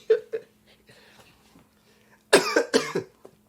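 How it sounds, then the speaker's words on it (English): A person coughs, a couple of short throat sounds at first, then a louder burst of two or three harsh coughs close to the microphone, with faint murmuring in between. "That made me cough."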